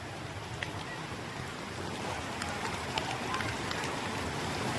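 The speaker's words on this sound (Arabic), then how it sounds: "أمطار غزيرة الآن في شلالات أثربيلي." Heavy rain at the Athirappilly waterfalls in Kerala, a dense, constant roar of downpour and rushing water, loud and unbroken throughout.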